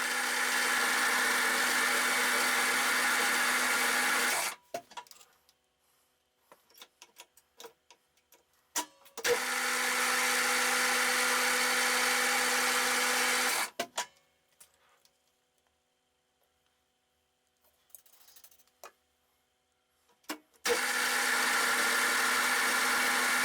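A lathe screw-cutting a thread on a milling machine drawbar runs in three loud steady bursts of motor hum and cutting whine, separated by near-silent pauses with faint clicks and ticks.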